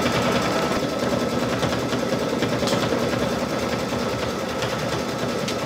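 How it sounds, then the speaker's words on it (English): A Baby Lock embroidery machine stitches a holiday fill design, its needle hammering in a fast, steady, continuous rhythm that stays loud and close with no talking throughout. "We're going to let this stitch out, and we'll come back when we're a little bit further along."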